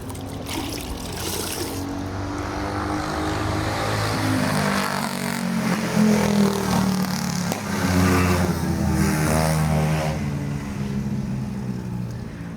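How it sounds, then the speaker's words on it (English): Small mopeds revving and passing in a sustained droning whine that swells and fades, heard from a distance beneath running water or a hose spray, with no talking. "Well, they sure having fun with their little mopeds and whatever"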